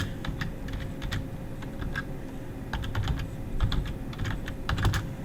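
Steady rapid typing on a computer keyboard, continuous close key clicks and clatter over a low background hum, with no voices.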